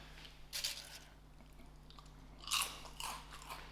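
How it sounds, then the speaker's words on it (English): Crispy homemade chips bitten and chewed close up in a quiet kitchen, two sharp crunchy bites followed by softer chewing crackles, faint and with no talking. "Did you hear the crunch?"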